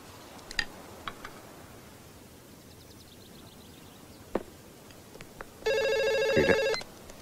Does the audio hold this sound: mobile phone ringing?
yes